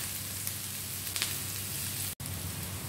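Ginger, garlic and green chilli sizzle steadily in a hot pan for a quick pork stir fry, a close, even hiss with a few faint pops and a brief cut near the end.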